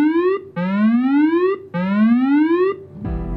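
A Coast Guard station alarm blares in loud, close electronic whoops, three rising sweeps each cut off sharply before the next begins, with no voices over it.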